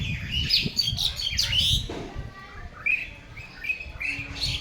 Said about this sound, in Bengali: কোনো কিছু শব্দ পাবেন না শুধু পাখি পাখি শুধু কিচির মিচি